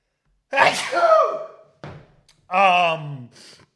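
A single loud sneeze bursts out, followed by a brief breathy sound and a short vocal exclamation close to the mic.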